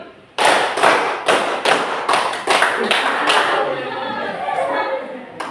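A class claps together in a rhythm exercise during a teaching session, a run of about seven to eight sharp, evenly spaced unison claps, followed by murmuring voices and quieter scattered sounds.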